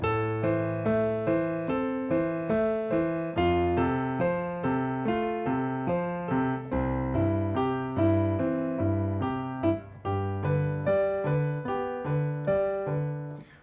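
Solo piano plays a continuous flowing pattern of broken chords and melody at a steady pace, close and moderately loud, with no talking.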